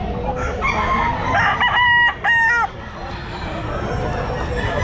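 Several bull stag gamefowl roosters crow loudly and close at a busy pet market, two sharp crows standing out over background chatter and clucking.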